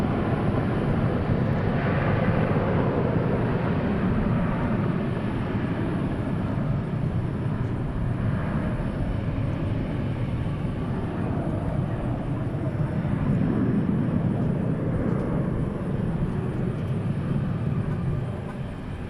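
An American 737-800 taking off at DFW International Airport, bound for Albuquerque: a steady, loud jet engine roar that swells and holds for the whole stretch, with no talk over it.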